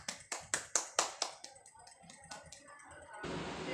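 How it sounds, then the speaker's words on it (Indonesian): Classroom applause: a few sharp, evenly spaced claps from one nearby pair of hands, then softer scattered taps and a rising murmur of noise at the end. "Oke, tepuk tangan buat kita semua."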